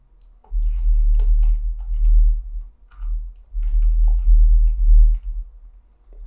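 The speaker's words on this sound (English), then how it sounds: "as we're typing the information in Excel" Typing on a computer keyboard while entering data into an Excel spreadsheet, heard as several close, busy bursts of key clicks with short pauses between them and no talking.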